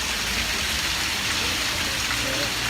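Heavy rain pours steadily outdoors at a house with an open patio, a loud, dense, unbroken hiss close to the microphone with no talking.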